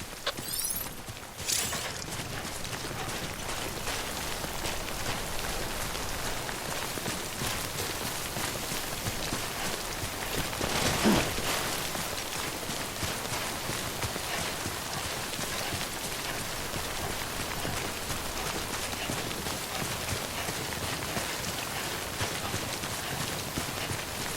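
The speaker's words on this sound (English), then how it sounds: "Don't stay out in the rain any longer than you have to." Timefall rain pours in the video game Death Stranding, a constant dense patter of drops on surfaces, heard close and steady throughout, with a few louder splashes and knocks near the start and middle.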